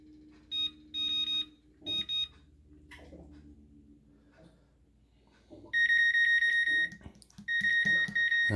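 A kitchen oven being set gives a run of sharp electronic beeps, first three short bursts and then longer, louder tones, with soft handling noises between them.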